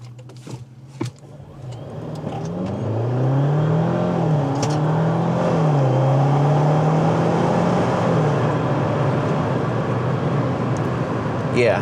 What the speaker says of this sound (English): I'm just going to accelerate so you can see from a standstill.